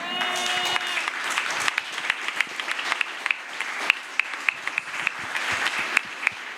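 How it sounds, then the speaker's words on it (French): A church congregation at a French-language worship service applauds and cheers, dense clapping with sharp individual claps standing out throughout, steady and fairly close. "Est-ce qu'on peut l'acclamer, c'est Jésus?"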